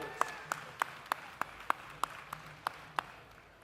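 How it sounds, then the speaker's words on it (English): Sparse, evenly spaced claps ring out at an auto auction just after a phone bid is sold, a handful of distinct hand-claps rather than a full crowd, fairly faint. "Give him a massive round of applause so he can hear it down the phone"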